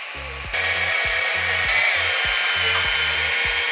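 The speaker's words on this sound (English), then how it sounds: "Drilling titanium is no fun." A power drill whines steadily at high pitch while drilling titanium, a low motor hum pulsing in short repeated bursts, loud and close throughout.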